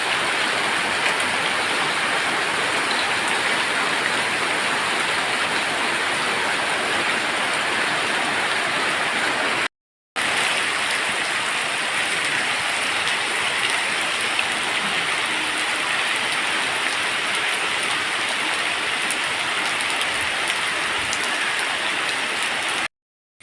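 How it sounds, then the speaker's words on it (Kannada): Steady rain falling on surfaces around a farmhouse, a dense, even hiss of drops that continues throughout with one short break, no voices. "ಮಳೆ ಬರಲಿಕ್ಕೆ ಶುರುವಾಯಿತು."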